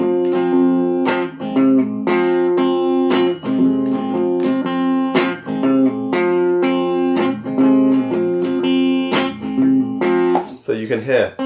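Acoustic blues guitar playing a song, with muted and ringing strings in a steady, loud, close rhythmic pattern of plucked notes, ending in a brief scrape.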